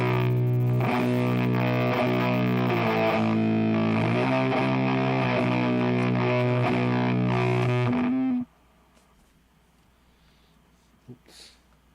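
Electric guitar played through a Hippie Fuzz pedal set for a dirty boost, giving loud, gritty distorted chords and notes for about eight seconds before cutting off abruptly into near silence with a faint knock near the end.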